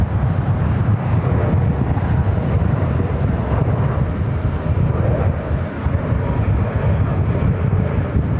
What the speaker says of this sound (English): We do have a UPS flight 2991. It's a 757-200 heading to Ontario. We'll be crossing by us here on Alpha here shortly.